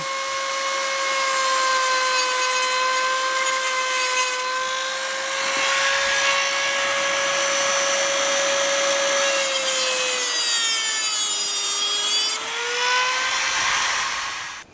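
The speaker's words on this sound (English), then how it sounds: "I'm just going to use a Dremel on this one" A Dremel rotary tool cutting through a metal CV boot clamp on a Polaris Sportsman 500 ATV, a loud, close, steady high-pitched whine that dips in pitch as the cutting wheel loads up, running continuously for the whole stretch.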